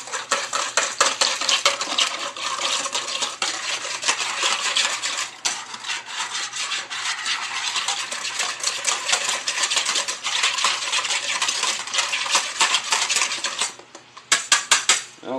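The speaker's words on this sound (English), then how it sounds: "Now, I'm whisking this together." A mixture is whisked in a bowl while making cinnamon rolls, with rapid, steady metallic clicking and scraping of the whisk against the bowl that carries on continuously and briefly falters near the end.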